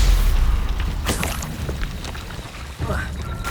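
A Stupefy spell blast in Hogwarts Legacy booms loudly and deeply at the start, then rumbles and crackles with softer magical bursts and a voice calling out amid the noise.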